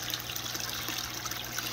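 Water trickles and splashes steadily down a backyard pond waterfall grown with hair algae, a continuous close babble at even level.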